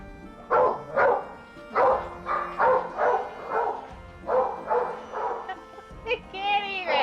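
Dogs bark at home in repeated loud, close bursts, about a dozen evenly spaced woofs, ending in a higher yelp or whine.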